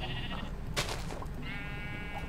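Sheep in the video game Solitary Craft let out two close, clear bleats, a wavering cry at the start and another near the end, with faint game sounds between them.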